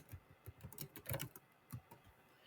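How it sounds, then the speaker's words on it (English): Close, quiet keystrokes on a computer keyboard come in uneven clusters of clicks and taps with short gaps, with no one speaking. "So I'm typing here right now"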